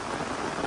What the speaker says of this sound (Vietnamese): bữa nay mưa đá đã quá đã.